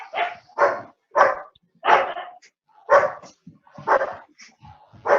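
Dogs bark near a factory, a steady run of about eight loud, close barks spaced under a second apart, with a few softer yips between them.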